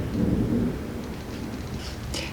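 Thunder rolling outside just before rain, a low, muffled rumble heard from indoors that swells at first and then fades into faint ambient noise.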